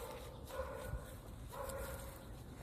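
A dog barks excitedly outdoors near a bush, giving two or three yipping, whiny barks at a moderate distance over quiet background noise.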